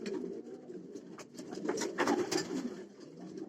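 Soft, low cooing from pigeons, several overlapping throaty calls with light rustling, fairly close and quiet.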